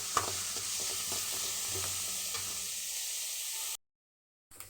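Onions sauté in a pan for veg momo stuffing, a steady close sizzle and hiss with a few light stirring scrapes, cutting off abruptly near the end.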